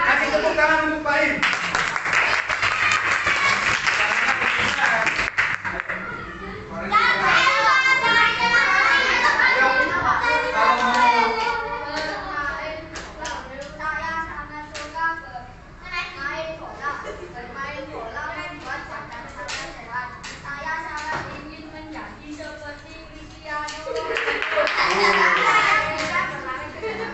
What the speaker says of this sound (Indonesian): Kasih tepuk tangan untuk Baim